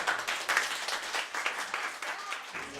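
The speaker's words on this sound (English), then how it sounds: "And a round of applause." Applause from an audience after a children's puppet show, a steady wash of many hands clapping that swells and fades in bursts, fairly close, with a little background chatter.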